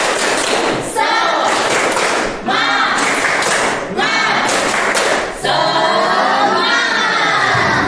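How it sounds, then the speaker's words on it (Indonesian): Schoolchildren in a classroom perform a rhythmic spirit clap, loud patterned bursts of clapping and thumping in groups with brief pauses between them, mixed with their shouted chanting. "Kita akan mulai untuk tepuk semangat."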